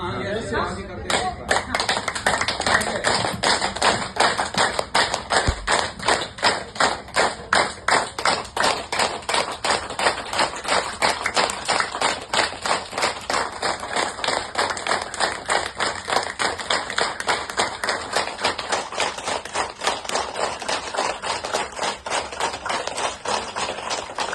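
Loud, fast hand clapping keeps going for the whole stretch, many people clapping hard in a steady rhythm as a naturopathy exercise to work up a sweat. A voice can be heard faintly under the claps.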